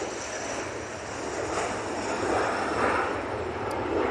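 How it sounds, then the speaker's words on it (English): A Loganair plane on its takeoff roll at Manchester Airport, a broad engine roar at moderate distance that swells slightly over a few seconds. "Logan Air on the roll."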